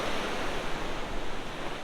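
Sea surf rolls onto Kuzhuppilly Beach in Kerala as a steady, unbroken wash of close, fairly loud noise with no voices.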